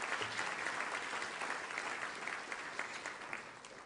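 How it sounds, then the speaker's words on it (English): Steady applause from a room full of guests at an evening university scholarship reception, continuous and fairly even in intensity throughout, with no voices standing out above the clapping. "So a big round of applause to you all for being here tonight."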